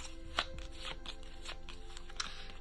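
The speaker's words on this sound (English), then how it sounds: "Give them a little shuffle." A small deck of cards from the Aftermath board game is shuffled by hand, a series of quiet, close riffling and slapping sounds with a few sharper snaps, no voices over them.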